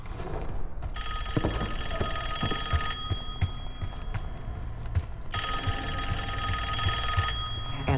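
A telephone rings in the Call of Duty Black Ops 6 video game, a bright repeating electronic bell in steady bursts over a dense, loud game background hum.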